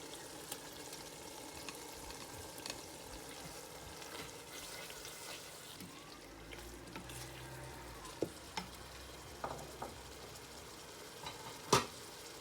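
Onion frying in a pan with a little salt, a steady low sizzle running throughout, with a few brief clinks and a sharper knock near the end, no voices.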